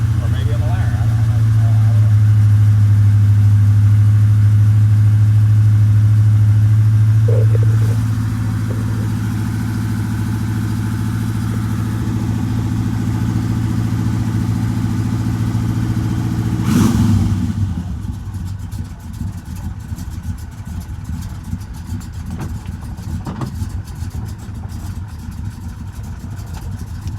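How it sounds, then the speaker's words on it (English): An old Chevrolet Monte Carlo idling after a cold start, a loud steady low rumble that drops in pitch partway through, then a rougher, noisier settled idle. "Cold start on the old Monte Carlo"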